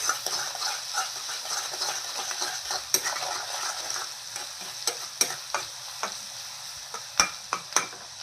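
Onions with salt fry in a pan for a Bombay duck curry: a soft, even sizzle at first, then repeated distinct clacks of a metal spoon stirring against the pan.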